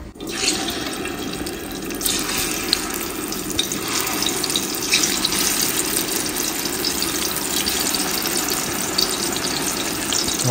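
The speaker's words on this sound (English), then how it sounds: "With the palm oil, I'm frying it in the shallow frying method." Raw plantain shallow-frying in palm oil, a continuous loud crackling sizzle that fills the whole stretch with no talking.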